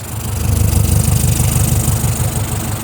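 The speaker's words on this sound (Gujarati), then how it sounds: "સાયલેન્સરની બાજુમાં હું માઇક લગાડું છું તો અવાજ તમે ચેક કરો" A Sonalika Tiger DI 60 4x4 tractor with a CRDS engine idles on a slow throttle lever, heard right beside the silencer as a loud, steady, deep diesel rumble with no voices.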